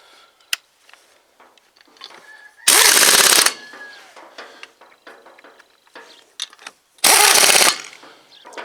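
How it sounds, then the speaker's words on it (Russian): An impact wrench loosens and tightens wheel bolts in two loud, sharp rattling bursts about four seconds apart, with quieter clanks and handling noises in between. "Этот гайковерт откручивает и закручивает болты на колесах"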